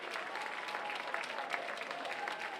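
A crowd at the Claude Robillard Sports Complex applauds steadily after the men's 200m final at the 2024 Bell Track & Field Trials, won by Aaron Brown. The clapping is moderately loud and even, with a commentator's voice faintly over it.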